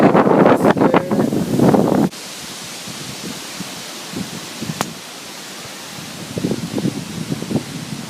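Strong wind buffets the microphone outdoors at a wedding, a loud roaring rumble at first that drops to a steadier hiss with scattered gusts.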